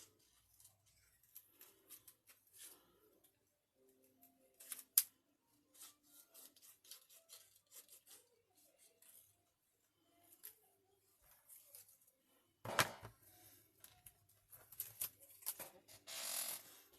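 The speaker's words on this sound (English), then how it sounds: "I'm actually going to try and cut it out a bit closer to it" Scissors cut out paper for an art journal page, making faint, close, intermittent snips and rustles in a quiet room, with a few louder bursts of cutting near the end.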